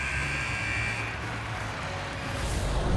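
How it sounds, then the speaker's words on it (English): An end-of-period buzzer sounds in the NHL 26 hockey video game, a loud, steady electronic drone that holds for several seconds over arena noise. "There's the buzzer."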